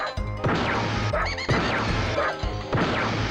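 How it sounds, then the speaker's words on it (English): Toy enemies being destroyed in a Disney PS1 video game, a series of loud, violent crashing smashes with sharp whacks and dramatic booming impacts, repeating several times in quick succession with no talking. "the destruction of these toy enemies. I don't know why, but they make the most violent sound in the whole game"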